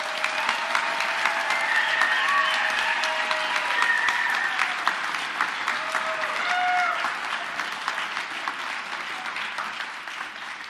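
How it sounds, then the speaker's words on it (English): Sustained applause from a seated audience at a graduate-student spring convocation for master's and PhD candidates, steady dense clapping filling the whole stretch and slowly tapering toward the end. "Another round of applause."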